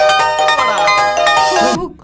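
A mobile phone ringtone plays a loud, bright electronic melody of quick rising and falling notes for about two seconds, then cuts off abruptly.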